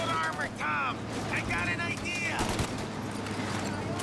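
Gunfire in the video game Mafia: Definitive Edition, a street shootout with street punks, heard as several sharp bursts over a steady noisy backdrop, with voices speaking loudly over part of it.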